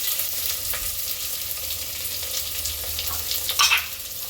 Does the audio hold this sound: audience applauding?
no